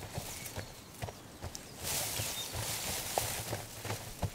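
Jara horses, a breed unique to Sardinia, walking in the wild, their hooves clip-clopping in a steady uneven rhythm at close range, with a brief broadband rustle midway and no talk.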